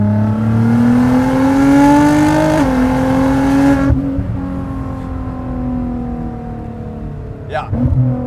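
A 650+ horsepower Nissan GT-R pulls hard from inside the cabin, engine tone climbing steadily with a loud turbo whistle spooling over it, then the note drops sharply as the throttle lifts and the car settles, with a brief flutter near the end.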